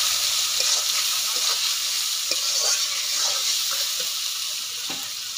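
Pomfret fish with salt and turmeric sizzles steadily in a pan. A spatula stirs it, giving regular scraping ticks over the close, constant frying hiss, with no talk.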